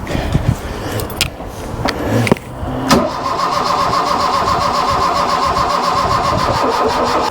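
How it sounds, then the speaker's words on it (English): The 1.1 engine of a barn-find Ford Fiesta Mk1 Ghia is cranked with the choke on. After a few starter bursts it catches and settles into a loud, steady, close idle. "Let's not pump the throttle and just try the choke and see if she fires up that way now"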